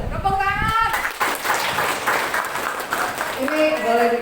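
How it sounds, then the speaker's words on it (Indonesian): Audience at a school financial-literacy teaching session clapping together in a steady, dense burst after a presentation, with voices briefly audible at the start and end. "Tepuk tangan"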